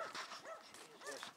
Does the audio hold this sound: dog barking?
yes